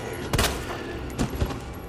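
Gunfire at a zombie in the Resident Evil 2 Remake video game: a loud shot followed by two more close together, sharp cracks over a dense continuous game background.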